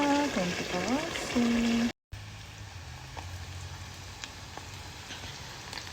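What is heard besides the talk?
long sidra fish frying in oil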